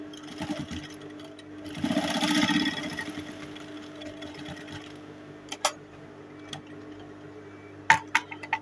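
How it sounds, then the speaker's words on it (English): A sewing machine top stitching fabric on an Ankara ball dress, a brief whirring run in the first seconds, then quiet with a few sharp clicks and clinks near the machine. "I just want to top stitch here a little bit so that it could secure to this fabric and not be falling out on its own."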